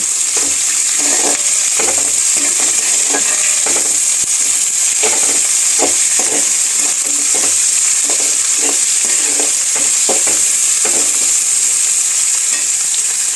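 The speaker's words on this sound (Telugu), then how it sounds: "ఆ తర్వాత పచ్చిమిరపకాయలు అవి వేగాక ఉల్లిగడ్డలు, కరివేపాకు వేయాలి" Green chillies, onions and curry leaves frying in oil for pyalaalu. The hiss is loud, constant and close, broken by regular scraping strokes of a spatula stirring the pan throughout.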